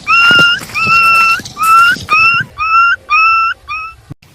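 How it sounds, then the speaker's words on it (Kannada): A dog in a forest gives a run of about seven loud, close, high whining yips, each a short rising cry, with brief gaps between them. "ನೋಡಿ ಫ್ರೆಂಡ್ಸ್, ಇದೇ ನಾನು ಹೇಳಿರುವಂಥ ನಾಯಿ"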